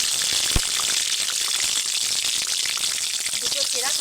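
A whole tomato and split green chillies frying in hot oil in a kadai, a steady close sizzle and crackle with a brief knock early on.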